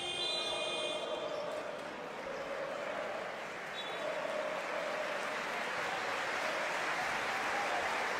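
Steady crowd applause and cheering fills a basketball arena throughout, at a Montenegro versus Turkey World Cup qualifier, with the broad wash of a large audience and no clear pauses.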